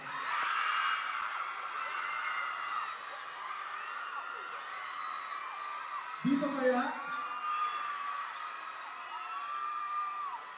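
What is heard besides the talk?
crowd screaming and cheering at campus concert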